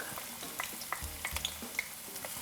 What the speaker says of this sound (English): and you saute it for about 1 minute or less, just until the onions start to turn translucent.